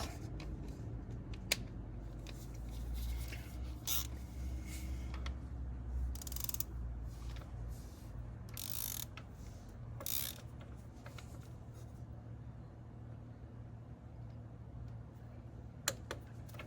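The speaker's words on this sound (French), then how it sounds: "Et là, on va serrer entre 12 à 12 Nm." Wrench tightening a Polaris 4x4 hub to 12 Nm, heard as quiet scattered mechanical clicks and ratcheting ticks over a low steady hum, with a sharp metallic tap near the end and no talking.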